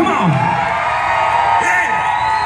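Concert crowd at a live cover performance screaming, whooping and cheering loudly and continuously throughout, with shouts rising over a dense wall of crowd noise.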